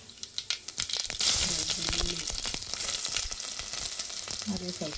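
Mustard seeds and onion frying in oil for sambar, with a loud, close sizzle that swells early and keeps crackling steadily while someone speaks briefly over it.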